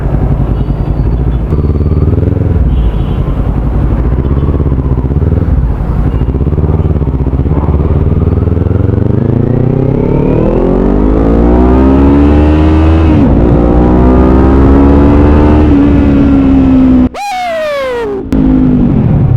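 A Kawasaki Z400 motorcycle pulls hard in first gear, its engine note climbing in a loud, close, rising whine that builds steadily, then cuts off sharply with a brief drop near the end before picking back up.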